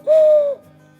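A hand call imitates a barred owl with one clear, sustained hoot lasting about half a second. It is loud and close, and nothing else is heard.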